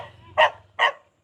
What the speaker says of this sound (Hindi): हम पे भौंक रहा है, हम बाहर के है ना